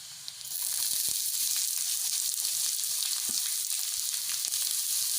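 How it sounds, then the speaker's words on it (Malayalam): Chopped onion dropped into hot oil with ginger, green chilli and garlic for egg bhurji, setting off a sudden close sizzle that holds steady and loud throughout, with a few faint clicks. "ഞാൻ സാവാള അരിഞ്ഞത് അങ്ങോട്ടേക്ക് ഇടുന്നു"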